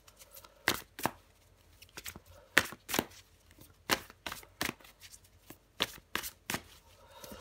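Tarot cards being shuffled by hand in a series of crisp, quick riffling bursts spaced irregularly, quiet and close, with no talking over them.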